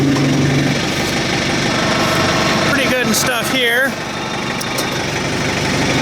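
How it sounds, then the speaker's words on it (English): A tractor engine idles steadily throughout, a continuous close rumble with someone talking over it partway through. "We just got to put the tractor away."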